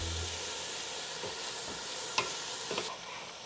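Onions sizzle in a pan while arroz caldo, a Filipino chicken and rice dish, is started: an even frying hiss with a few soft stirring clicks and taps, close and moderately quiet, no voices.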